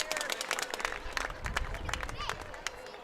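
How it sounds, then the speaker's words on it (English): Crowd in the stands at a high school varsity football game on senior night applauds the band members, a steady wash of clapping and cheering mixed with loud crowd murmur and some talk nearby. "Let's give a round of applause for our band members"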